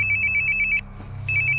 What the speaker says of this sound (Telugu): అభిరామ్ ఫోన్ చేస్తున్నాడన్నా.